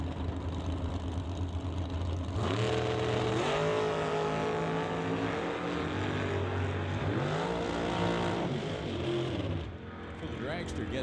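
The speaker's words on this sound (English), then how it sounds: "So the dragster gets there well in advance of Monte Carlo." Drag racing dragster and Cutlass accelerating down the strip at a T&T West Coast Classic event, a loud continuous engine roar with rising and falling revs and gear changes, close and dominant throughout.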